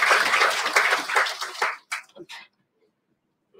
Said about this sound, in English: yeah, you can clap please.